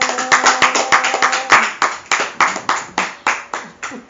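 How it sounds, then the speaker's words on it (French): A church congregation claps in praise of God, a brisk, steady run of loud hand claps at a regular rhythm, close and without voices. "On applaudit le grand Dieu."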